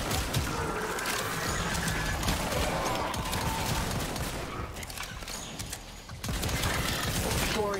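Sustained rapid gunfire from a Warframe headshot fight, dense and loud almost throughout, with a brief lull near the end before the shooting picks up again.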